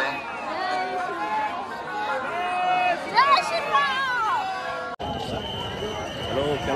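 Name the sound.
crowd of passengers chattering at railway station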